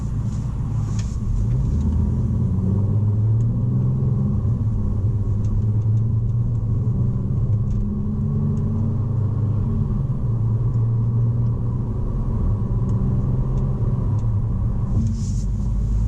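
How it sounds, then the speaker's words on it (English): Road noise inside the cabin of a Mercedes-Benz E350 4Matic sedan while driving: a steady, muffled low rumble of tires and engine, even throughout, with no talking. "the road noise in this car is very minimal"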